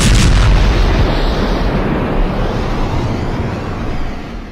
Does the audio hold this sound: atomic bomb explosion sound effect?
yes